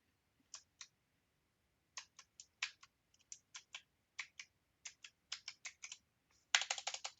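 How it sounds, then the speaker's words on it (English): Keys on a computer keyboard are pressed in quick, sharp clicks, scattered singly and in short bursts, including repeated taps on the backspace key, ending in a dense rapid flurry, close and clear with no talk. "That's the backspace."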